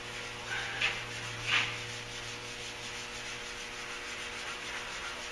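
Soft rubbing and scraping of sandpaper on the bare steel fender of a Duramax truck, with two brief louder strokes early on, then a steady faint hiss.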